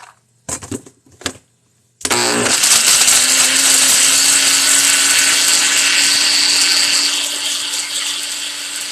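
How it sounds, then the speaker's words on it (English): After a few short bumps, a food processor starts and blitzes mushrooms with a loud, steady whirring roar right up close, easing slightly toward the end. "Now I'm going to blitz these mushrooms first before I do the garlic so they don't stick to the blade."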